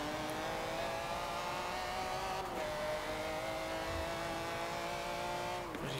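A 2004 Ferrari 612 Scaglietti accelerates in the racing game Forza Motorsport 7. The engine holds a steady rising drone, drops briefly at a gear shift, then pulls again, with no talking.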